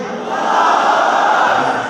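A large gathered crowd at an Urdu religious address roars a sustained, loud collective shout in reply to the takbir chant, a dense wall of voices swelling and holding for about two seconds.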